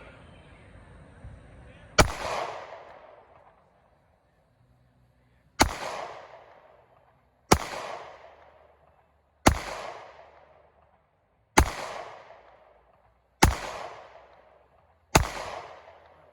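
Seven sharp, loud pistol shots from a Glock G43 aimed at a steel target about 70 yards away, spaced roughly two seconds apart outdoors, each crack ringing off into a short decaying echo.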